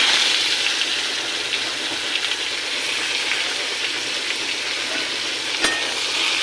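Chopped onions frying in hot oil in a wok, with bay leaf and cumin already tempered, giving a loud, close, continuous sizzle with faint stirring scrapes and a sharp clink near the end; no talking.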